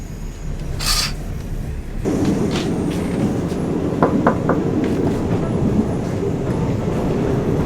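Steady low rumble of a moving first-class sleeper train to Bangkok heard from inside a carriage, with a continuous rattling hum, a brief hiss early on and a few faint clicks.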